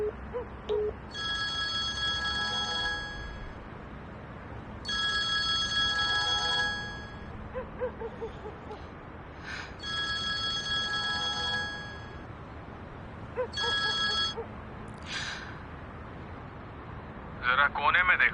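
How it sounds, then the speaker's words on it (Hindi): A telephone rings in a Hindi-dubbed Turkish drama, several bursts of a bright electronic ring repeating every few seconds at moderate loudness, with someone talking between and over them. "किसी का फोन आ रहा है"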